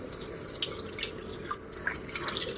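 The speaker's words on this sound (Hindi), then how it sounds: "उसके बाद पानी से वॉश कर लेते हैं" A bathroom sink tap runs steadily while someone rinses their face, giving a continuous close splashing hiss with small drips and splashes and no speech.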